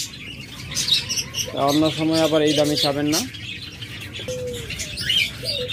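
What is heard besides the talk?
cage birds chirping, java sparrows, budgerigars, lovebirds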